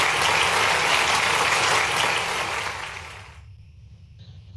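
A conference audience gives loud, sustained applause for a judge, dense clapping that fills the room before fading away over the last second into near silence.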